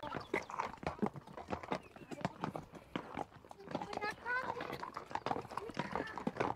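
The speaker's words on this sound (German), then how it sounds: "Wir sind jetzt wieder zurück und bringen die Pferde jetzt wieder an ihren Platz." Horses walk back to their stalls at a horse farm on Tenerife, with hooves clip-clopping in an irregular rhythm close by, mixed with footsteps and some rustling while a person talks over it.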